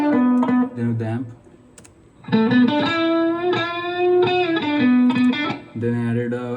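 Rock electric guitar run through a T-Rex amp plugin, playing a driven riff of sustained and palm-muted notes with a gritty, saturated tone, loud and close, with a brief gap partway through.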